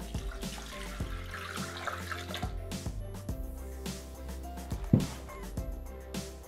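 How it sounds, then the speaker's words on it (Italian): Water poured into a Thermomix mixing bowl holding yeast, a trickling, dripping splash with a sharp louder drop near the end over a faint background hum. "Aggiungiamo l'acqua."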